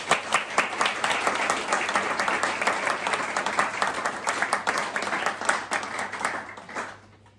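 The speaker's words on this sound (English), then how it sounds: "round of applause for Laura McAllister" Clapping from a seated audience after a talk on voice and agency in sport, a lively dense round of hands that holds strong for several seconds before fading out.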